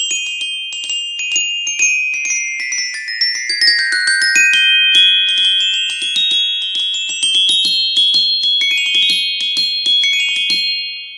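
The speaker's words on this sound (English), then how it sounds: "Glockenspiel, Glock for short. And it sounds a bit like this." Solo glockenspiel plays The Sorcerer's Apprentice, a quick run of bright, ringing metallic bar notes. The notes overlap and sustain at a steady close level with no voices.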